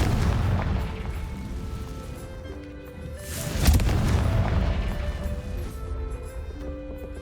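A single Confringo blasting-curse explosion in the video game Hogwarts Legacy, a sudden loud boom that swells and rumbles before settling back into a low game ambience with a faint musical tone.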